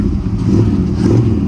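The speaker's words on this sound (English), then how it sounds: "Start her up. Starts up nice." A 1965 Plymouth Barracuda engine catches and settles into a steady, loud, low idle with a rough clattering rumble, close by, with no voices over it.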